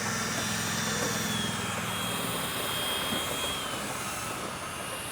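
A drill spins a brush inside a motorcycle fuel tank during cleaning, giving a steady high whine with a roaring, rushing hum that stays loud and constant, with no talk.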